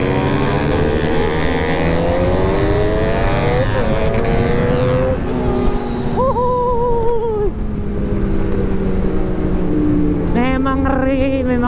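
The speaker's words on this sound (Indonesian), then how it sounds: "Suara knalpotnya bacot banget, lebih bacot dari knalpot kita coba." Loud exhaust from a sport motorcycle, close by, revving repeatedly with rising and falling pitch sweeps over a constant engine drone.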